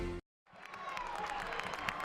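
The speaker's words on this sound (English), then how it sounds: "the crowd's starting to get themselves pumped up" A high school football crowd at a Bellefontaine versus Wapakoneta game gives a distant, steady roar of cheering and scattered clapping, following a brief cut to silence.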